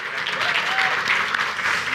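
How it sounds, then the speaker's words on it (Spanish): Loud, dense applause from an audience welcoming a speaker to a tech talk, sustained and close throughout, with a faint voice briefly audible within it. "lo recibimos con un fuerte aplauso, Matías"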